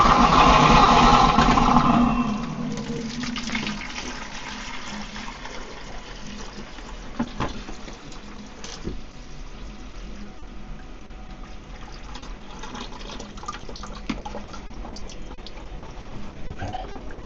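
Water drains through a dental unit's central suction line after it has been cleared, a loud rushing flow for the first two seconds that fades to a steady low trickle and gurgle with a few faint knocks.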